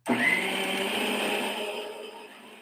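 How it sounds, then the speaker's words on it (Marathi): A mixer grinder grinding a masala whirs loudly and steadily for a couple of seconds after starting abruptly, its motor whine easing slightly toward the end. "मिक्सरचा आवाज भरपूर येता."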